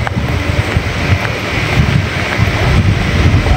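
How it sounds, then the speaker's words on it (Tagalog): Strong wind roars and buffets the microphone continuously near the windmills at Pililia, a loud low rumble with broad hiss on top, steady throughout and no one speaking. "Medyo malakas ang hangin"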